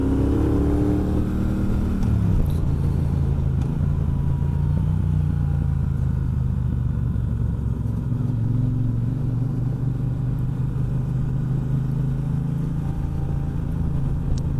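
A 2018 Triumph Bonneville Bobber Black twin-cylinder motorcycle rides along in a high gear, its engine giving a steady, loud, low rumble throughout with a brief shift in pitch early on, and no talking.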